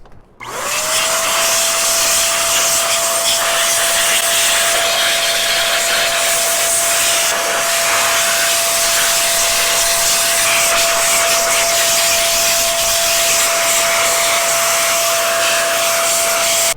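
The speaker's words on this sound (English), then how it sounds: "Now we want to give it a good whack with the data vac. Make sure that we get all the dust particles out of there" A DataVac electric duster blasts dust out of an old Remington Rand typewriter, a loud steady whooshing blower roar with a high whine that holds for about sixteen seconds without pause.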